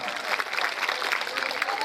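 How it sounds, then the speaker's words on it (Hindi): A large school audience at a Kids' Care School event claps loudly and continuously, a dense steady wash of hand claps heard from within the crowd. "इसीलिए एक बार जोरदार तालियां"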